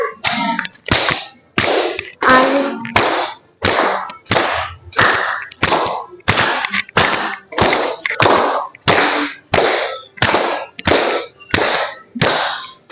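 Sharp hand claps ring out in a steady, evenly spaced rhythm, roughly two per second, loud and close with no talk, keeping time for a children's song about a young goat in a classroom lesson.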